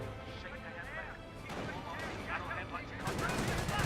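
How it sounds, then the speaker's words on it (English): Mortar blasts and bursts of gunfire from the World War II strategy game Company of Heroes, rapid distant crackling and thuds layered under a commentator talking. "I think that mortar's going to drop right in this formation."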